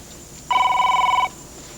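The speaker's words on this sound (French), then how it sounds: "Téléphone." A telephone bell rings once in a single steady electronic trill lasting under a second, loud and close against a quiet room, with no talk.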